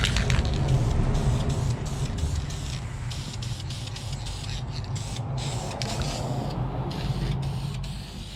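Blue spray paint hisses steadily from a can onto a welded part during an LS engine swap on a 1989 Chevy K1500 pickup. The close, continuous spray keeps going with brief breaks in between.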